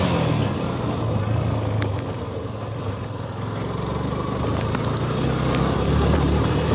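A motorcycle riding along a muddy road on a first ride after lockdown, its engine droning steadily and loudly up close with wind rush and a few sharp knocks and rattles.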